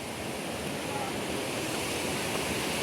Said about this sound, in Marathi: या साईडला बघा वॉटरफॉल आहे